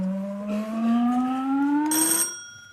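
Quiz show buzzer on a British panel game set, a single rising electronic tone lasting about two seconds with a brighter chime burst near its end.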